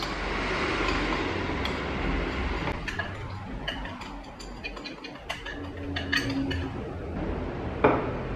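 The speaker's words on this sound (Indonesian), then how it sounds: "Kemudian aduk-aduk agar dia tercampur antara tepung beras dan tepung tapiokanya ya." A utensil stirs rice flour and tapioca flour batter in a bowl for kue lapis, making soft, steady scraping with scattered light clinks against the bowl. It sounds close and fairly quiet, with no talking.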